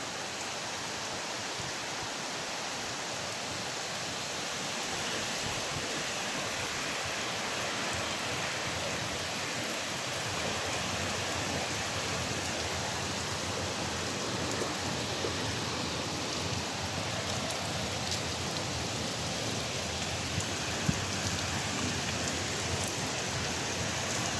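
Steady heavy rain falls in a dense, even patter, a soft continuous wash of drops on surfaces that never lets up, with no voices heard.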